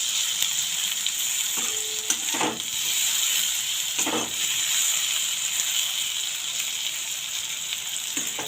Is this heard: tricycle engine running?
no